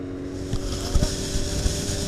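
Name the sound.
Triumph 955i motorcycle engine idling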